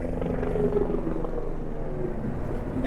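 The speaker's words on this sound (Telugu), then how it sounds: "helicopter helicopter helicopter" A steady, heavy rotor-like rumble with a low throbbing drone, continuous and fairly loud throughout, like a helicopter passing nearby.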